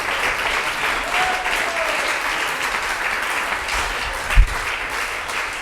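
A church congregation applauds, a dense, steady roar of many clapping hands sustained throughout, with a brief low thump near the end.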